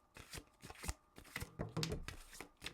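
Tarot cards are shuffled by hand in a quiet room, making soft riffling and slapping bursts at an irregular rhythm, close and faint, with no voices.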